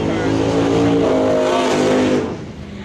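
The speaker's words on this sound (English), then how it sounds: "Fully built motor sounds like race car to me" A car with a fully built motor revs hard like a race car, a loud, sustained engine roar with a rising tone that drops off sharply near the end.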